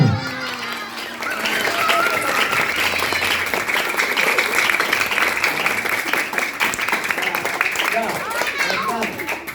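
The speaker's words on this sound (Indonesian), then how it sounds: "Tepuk tangan semuanya." Crowd of schoolchildren and guests clapping at an Indonesian Independence Day (HUT RI 79) school event, dense sustained applause with shouting voices and chatter over it, loud and close.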